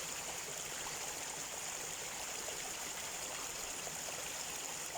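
A stream of water flows steadily, with an even rushing and trickling sound that stays constant throughout and has no voices over it.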